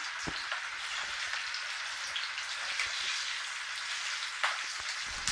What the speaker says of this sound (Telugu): చీల్చినా కూడా పేలుతున్నాయి అవి